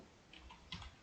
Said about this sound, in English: type in the search bar